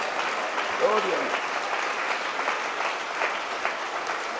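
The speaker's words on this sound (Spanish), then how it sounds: "Un aplauso fuerte para el Señor Jesús." Loud applause from a church congregation praising the Lord Jesus, a steady dense wash of clapping across the whole stretch, with a voice briefly rising over it near the start.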